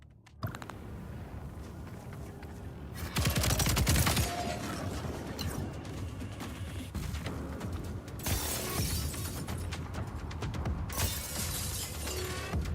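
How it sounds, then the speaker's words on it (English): Glass windows burst apart in Voidbreaker, a destruction-based cyberpunk shooter, with crashes and long tinkling debris over dense game noise and gunfire, the loudest shattering around the middle. "I love smashing through windows with my face!"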